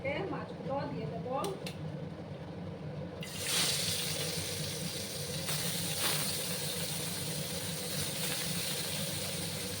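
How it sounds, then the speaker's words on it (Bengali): Chapila fish are lowered one by one into hot oil, setting off a sudden, loud, sustained hiss and sizzle that follows a few quiet kitchen clinks. "তেলটা গরম হয়ে গেছে। এবার আমি একে একে মাছগুলো দিয়ে দেব।"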